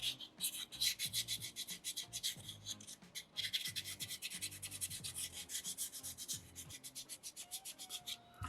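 Sandpaper rubbed back and forth on a small soapstone loon carving, a steady rhythmic scraping with short gritty strokes, close and quiet, with no talk.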